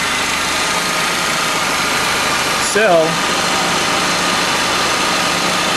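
A 2000 Dodge Neon engine fitted with an HHO cell idles with a steady, even hum throughout, and someone speaks briefly over it.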